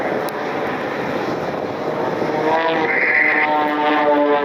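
A red Pitts Special biplane flies an aerobatic routine at the Cleveland National Air Show, a loud droning propeller engine whose pitch rises and swells as the plane passes, with a faint announcer voice under it.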